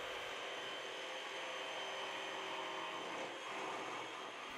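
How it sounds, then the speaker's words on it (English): A jigsaw cutting a wooden layout fascia along a marked line, giving a continuous loud buzzing motor drone with a rough cutting edge that holds steady for the whole stretch, close up and without speech. "I'll use my jigsaw to follow the cut line."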